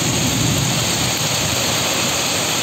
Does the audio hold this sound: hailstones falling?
yes